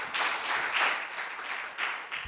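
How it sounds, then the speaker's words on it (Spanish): Audience applause welcoming a speaker at a conference, a steady crowd clapping that swells and dips over a couple of seconds, heard alone without talk. "primero un fuerte aplauso para recibirlo"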